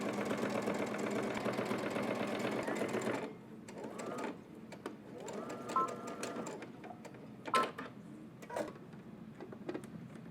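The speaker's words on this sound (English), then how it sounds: "let's head over to the machine and we're going to top stitch this down using a 1/4 inch" Sewing machine top stitching a quarter-inch seam, a fast steady mechanical whir for about three seconds, then quieter intermittent clicks and short stitching bursts at close range.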